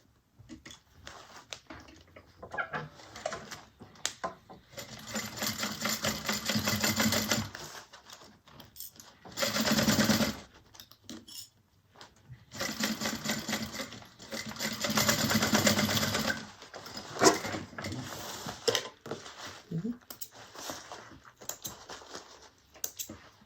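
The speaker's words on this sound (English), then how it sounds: "And now we're going to sew across 3/8." A sewing machine stitching a seam across a handbag, several sustained runs of fast, even whirring and needle clatter separated by brief pauses and small handling clicks, close and clear with no talking.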